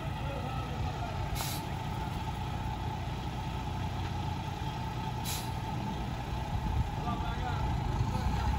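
A truck engine labours while pulling a mobile home across wet, slippery ground, giving a steady loud rumbling drone through the whole stretch, with two short hissing bursts like air brakes partway through.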